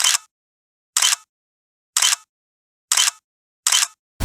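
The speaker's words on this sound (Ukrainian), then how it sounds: "Давай фото зробимо." A camera shutter fires five crisp, evenly spaced clicks about a second apart, loud and close, with silence between them and no talk, while a caught fish is photographed on a reed-bed fishing trip.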